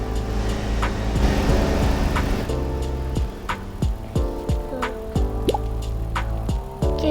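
Rain dripping near a garage where a BMW is parked, a steady patter of close, distinct drops with faint liquid trickling underneath, no talk.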